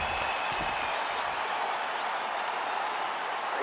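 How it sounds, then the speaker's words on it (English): A mixed martial arts arena crowd cheering and applauding, a dense, loud, steady roar of clapping and shouting over a few seconds. "The crowd's going crazy because they appreciate high-level mixed martial arts, and that's exactly what you just got."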